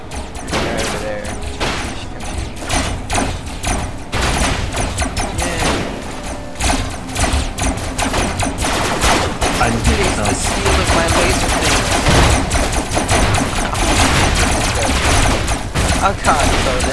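Dense, continuous gunfire strikes a player-built vehicle in the Robocraft video game, making loud rapid clatter and crashing impacts throughout, mixed with game noise.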